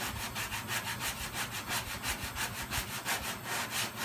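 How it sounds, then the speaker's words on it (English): Steady back-and-forth scraping of sandpaper against a Toyota Camry body panel, rhythmic strokes at a fairly quick even pace, close by with no talking. "I'm sanding below the break"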